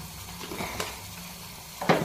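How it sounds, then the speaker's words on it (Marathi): Dried kasuri methi goes into a softly sizzling Vidarbha-style patvadi rassa gravy, giving a faint, continuous frying hiss with a few light scraping stirs and a brief louder rustle near the end. "कसुरी मेथी, कसुरी मेथी टाकत आहे"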